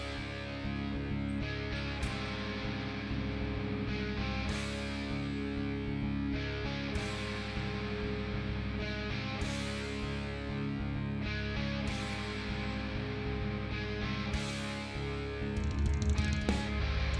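A steady, full-band power pop mix plays without pause, with regular programmed EZdrummer percussive accents recurring about every two to three seconds and no voices.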